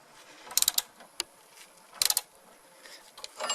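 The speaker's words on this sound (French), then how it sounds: "avec le Torx on tourne et ça va petit à petit dévisser l'écrou et nous libérer le haut de la biellette" A Torx wrench loosens the nut on top of an anti-roll bar link on a Peugeot 206, giving two quick bursts of sharp ratcheting clicks separated by quieter mechanical ticks, close by with no talking.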